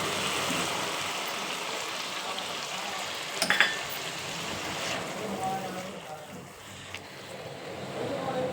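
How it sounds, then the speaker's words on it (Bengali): Coconut milk simmering with small shrimp in a Bengali malai curry, a steady broadband sizzle and bubbling with a brief clink of utensil midway, moderately close and continuous. "দিয়ে দিচ্ছি নারকেলের দুধটা"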